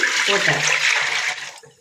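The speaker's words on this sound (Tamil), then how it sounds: "இப்போ இட்லி பாத்திரத்தை அடுப்பில் வச்சுருக்கேன். இங்கே பாருங்கள், இதில் 1 கிண்ணம் தண்ணி" About a bowlful of water rushes and splashes steadily into an idli steamer pot sitting on a stove, close and loud for under two seconds before trailing off, with a voice faintly present underneath.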